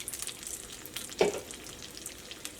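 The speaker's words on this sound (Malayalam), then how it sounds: "നമ്മുടെ ഓയിൽ നന്നായിട്ട് ചൂടായിട്ടുണ്ട്. ഇതിലേക്ക് നമുക്ക് ഓരോ തവി മാവ് ഒഴിക്കാം." Oil sizzles and crackles steadily at low volume throughout as banana batter fries, with one brief louder splash-like burst near the middle, no voices.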